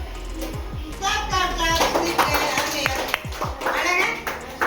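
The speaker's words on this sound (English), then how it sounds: "Clap." Children clap together in a classroom, a run of sharp, fairly regular handclaps ringing out over a noisy room with voices chattering underneath.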